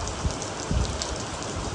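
Steady rain pours down in Surat, a dense continuous hiss of drops on surfaces with a few heavier patters, no voices.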